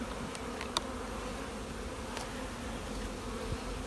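Honey bees buzz in a steady, low drone around an opened hive, a continuous hum with a few brief closer flybys standing out.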